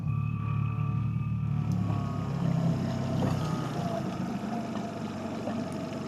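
A small boat's outboard motor runs after starting with a little choke, a low steady drone at moderate distance with faint background wind, no speech.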